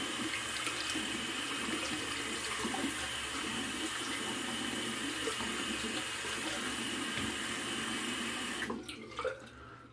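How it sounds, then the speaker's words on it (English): Water poured out of a container into a sink, a steady broadband splashing stream lasting most of the clip before stopping abruptly near the end, with a few faint trailing drips. "Dump out my water, don't need that anymore."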